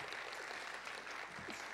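Crowd applause from a concert audience at Azadi Tower, a dense steady wash of many hands clapping, fairly far and muffled, with no talk on top.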